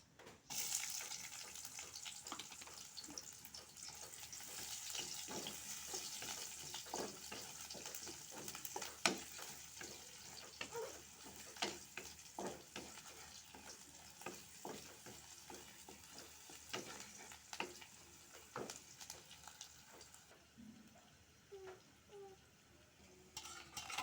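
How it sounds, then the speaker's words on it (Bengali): Dried fish sizzles steadily in hot oil with chopped garlic and onion, a close, continuous frying hiss broken by scattered spatula scrapes and clinks, quieting somewhat near the end. "এখন দিয়ে দিব শুটকি। ভালোভাবে ভেজে নিব"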